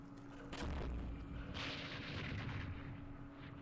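Artillery fire in the video game Campaign Series Vietnam, a dull boom followed by a rumbling blast that swells and holds for a few seconds, heard without talk.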